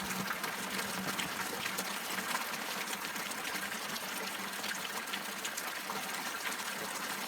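Rainwater pours steadily from a rain catch at a campsite, making a continuous, even gushing splash that stays at moderate loudness throughout, with no voices.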